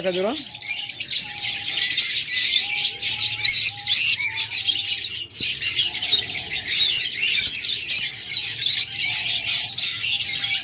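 A crowd of lovebirds at a breeding setup fills the air with dense, nonstop chirps, tweets and sharp squawks, loud and close, overlapping throughout.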